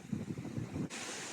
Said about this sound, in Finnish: Sitten mä pahoittelen tätä tuulta, mutta täällä on vähän keliä.